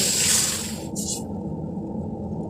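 A mixture of lassi and gram flour batter is poured into fried masala in a pot, making a loud, continuous liquid pour and sizzle that gives a brief splashy burst and then settles into a steady bubbling hiss.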